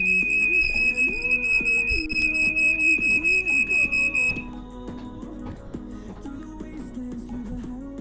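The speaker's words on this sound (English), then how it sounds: "It's guaranteed smoke alarm" A smoke alarm goes off while food cooks in a home kitchen, its steady high-pitched shrill tone sounding loud and continuous for about four seconds before cutting out, with a lower musical tone lingering underneath.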